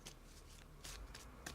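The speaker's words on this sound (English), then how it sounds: "This replica is plastic, so me shuffling feels a little weird." Plastic replica tarot cards being shuffled by hand, quiet, close papery riffles in a few short bursts over soft background noise.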